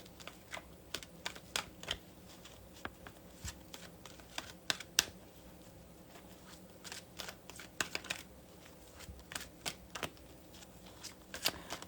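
Soft, rapid riffling clicks of tarot cards being shuffled, irregular bursts close by and quiet, with no talking.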